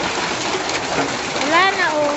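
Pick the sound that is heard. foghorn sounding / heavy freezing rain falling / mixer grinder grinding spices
heavy freezing rain falling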